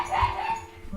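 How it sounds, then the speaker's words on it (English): A pet dog named Mushu barks and yips excitedly in short bursts indoors, fairly close, over a low background hum. "Sorry, my dog is barking all of a sudden."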